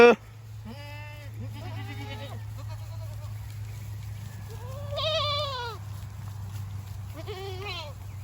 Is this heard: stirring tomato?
no